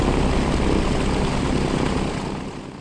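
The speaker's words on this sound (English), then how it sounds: "At 6, you're engaging the ignition, which means now the engine should come running." B-25 bomber engine running just after start-up, a loud, dense, steady propeller roar close by that eases slightly toward the end.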